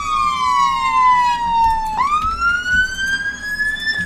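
A wailing ambulance siren in the video game Emergency 4 sweeps slowly down in pitch, jumps sharply upward and climbs again, sounding loud and close over a low engine rumble.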